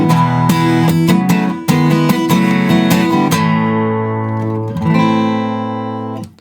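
Guitar playing the chorus of a song, close and bright, with rhythmic strummed chords giving way to sustained ringing chords that fade out at the end.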